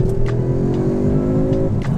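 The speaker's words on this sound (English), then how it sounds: "there's that inputted 5-pot tone, which Audi are now pumping in" A 2021 Audi S3 with a 2.0 TSI engine revs with a synthesized five-cylinder tone, giving a loud, steady, close-up engine drone with a slightly rising pitch throughout.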